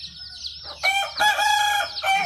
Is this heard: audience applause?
no